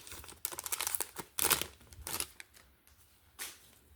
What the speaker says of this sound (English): now that we're just opening packs